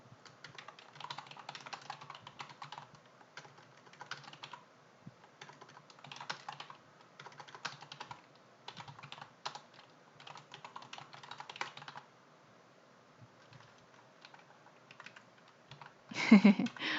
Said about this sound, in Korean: 오늘도 역시 키보드 미숙으로 오타가 많이 나고 있습니다